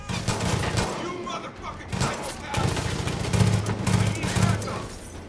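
Gunfire in the shooter game Far Cry 5, dense overlapping volleys of shots and automatic bursts with heavy thumps, loud and continuous throughout, mixed with game noise.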